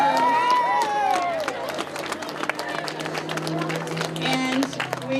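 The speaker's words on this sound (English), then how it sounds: "I think these girls deserve a big round of applause" Outdoors at a holiday lights event in Central Park, Fairfield, Iowa, a crowd applauds the girls with continuous clapping and scattered cheers, voices chattering and calling throughout.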